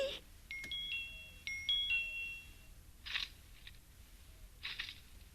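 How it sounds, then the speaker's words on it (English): A doorbell button pushed through bars gives two quick two-tone chimes early on, followed by a few soft, fainter clicks or knocks against a quiet background in a radio drama. "let's see if I can get the tip through the bars and against the doorbell button"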